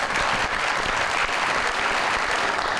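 A studio audience bursts into steady applause as a guest is welcomed onto an Eid special talk show, dense clapping sustained evenly throughout without pause.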